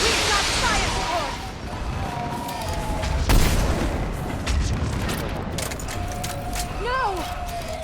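Artillery fire support thunders through a Mass Effect 3 battle, deep booms and blasts layered over constant rumbling combat noise, loud and close, with voices shouting amid the fighting.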